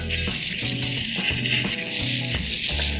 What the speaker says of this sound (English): you will just rinse with the hose